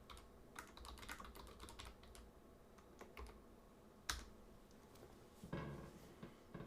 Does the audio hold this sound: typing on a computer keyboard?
yes